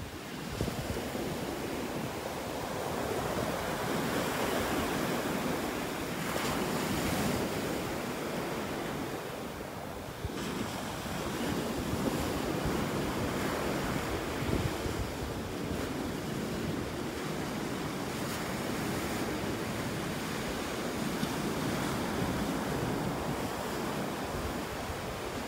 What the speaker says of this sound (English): you never know what the waves are gonna deposit on the beach here.